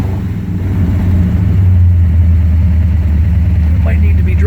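A 1971 Corvette engine idles at a fast, steady rumble around a thousand rpm, loud and close with an even low drone throughout, while someone talks over it.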